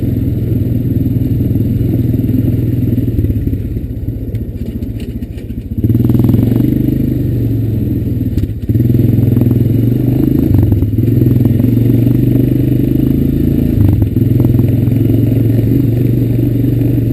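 A Honda Recon ES ATV rides along and turns, its engine droning steadily and close by with some clatter from the machine. The engine briefly eases off partway through, then picks back up.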